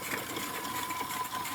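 A Jensen 25G live steam engine power plant runs at a steady, loping rhythm, a continuous mechanical whir with a faint whine, close and moderately loud with no talking.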